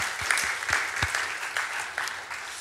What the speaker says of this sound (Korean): 우리 축하하는 박수를 하겠습니다